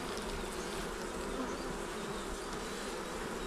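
Honey bees buzzing around an open hive during a colony inspection, a steady, dense, close swarm drone that holds at an even level throughout with no voices.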